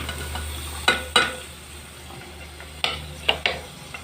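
Sliced onions sizzle softly in a pan for egg stew, a low steady hiss broken by several sharp spatula scrapes and taps against the metal.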